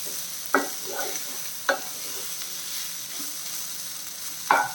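Chicken fry being stirred in a pan, a faint steady sizzle broken by a few sharp scrapes of the spoon against the pan, close by with no talking.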